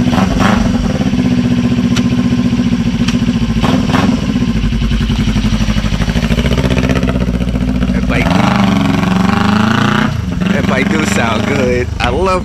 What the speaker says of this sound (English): I love that parallel twin sound of